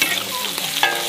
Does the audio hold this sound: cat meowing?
no